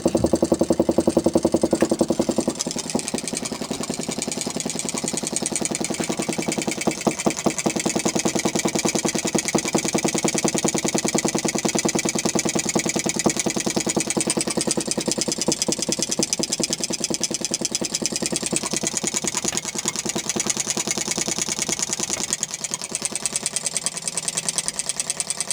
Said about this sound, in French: This type of Stirling engine can oscillate up to a frequency of the order of 10 Hz.